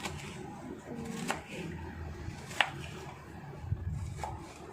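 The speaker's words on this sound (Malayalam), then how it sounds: "അടുത്ത ക്യാപ്സിക്കം ചെറുതായിട്ട് അരിഞ്ഞ് ഇങ്ങനെ മുറിച്ച്" Knife chopping a capsicum into small pieces on a board, a few scattered crisp cuts at moderate loudness over a quiet kitchen background.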